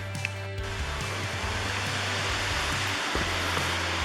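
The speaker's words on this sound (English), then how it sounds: "Sounds like a lot of water over the waterfalls though." A waterfall at Hanging Rock State Park in North Carolina carrying lots of water, a continuous broad rushing roar heard from a short distance, with a low hum running underneath.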